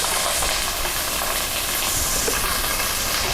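Chopped onion sizzling loudly in a generous amount of hot olive oil for a Maltese stuffed calamari stew, a steady dense crackling hiss, close and unbroken, with no talking.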